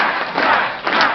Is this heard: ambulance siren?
no